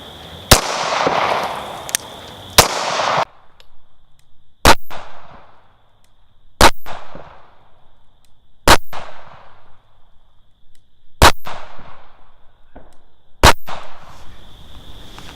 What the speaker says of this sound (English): Now we'll move on to the Glock 43. Here we go, 7 shots,